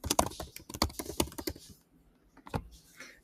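Quick typing on a computer keyboard, bursts of close, crisp key clicks followed by a pause and a few final taps.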